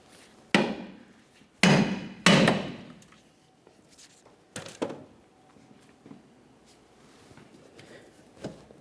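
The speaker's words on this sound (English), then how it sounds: "Continue on with a hammer, causing vibration in this area." Hammer striking the rear upper control arm ball joint on a 1994-1997 Honda Accord: several sharp metallic blows, three loud ones early, then lighter irregular taps with ringing decay between them, no talking.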